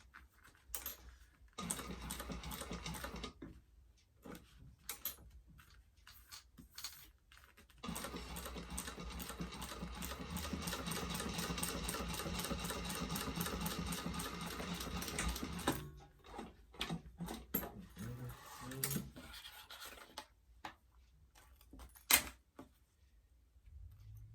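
A sewing machine stitches a Trailblazer convertible backpack in rapid mechanical bursts: short runs, one long sustained stretch of stitching, then more brief stop-start clatters with quiet gaps between them.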